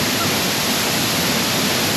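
Waterfall at Pelling in Sikkim, roaring up close as a steady, dense broadband rush of falling water, loud and continuous with no voices over it.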